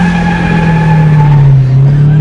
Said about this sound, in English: stop here for Peter and do the burnout you just did